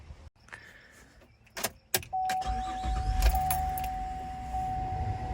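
Chevy Traverse engine turning over and settling into a steady running rumble with a faint whine, preceded by a few sharp clicks and thumps; no talking.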